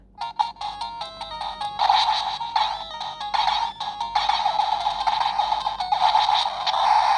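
A portable 8-bit handheld game console at full volume plays bright electronic beeps and chiming game tones loudly and continuously, short melodic blips at first giving way to a dense, busy stream of sound.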